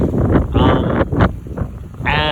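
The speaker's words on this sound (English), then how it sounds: "sorry, it's really windy guys" Strong wind gusting outdoors beside a 2016 Explorer during a BougeRV product install, low roaring buffets against the microphone that rise and fall, mixed with hissy bursts and someone talking over it.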